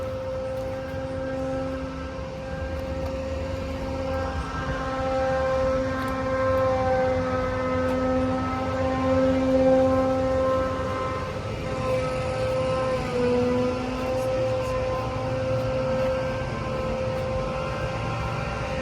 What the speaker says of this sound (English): Seems like every video I try to post has someone in the background blowing leaves.